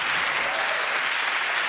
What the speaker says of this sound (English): But hey, big applause.